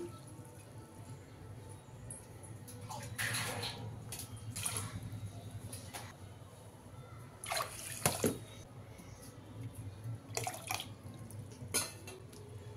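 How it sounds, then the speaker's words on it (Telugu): Water splashes and pours into a metal pot on top of sugar in several short bursts, with quiet clinks between them and a low background hum. "4 కప్పులు వాటర్ పోసుకుందాం"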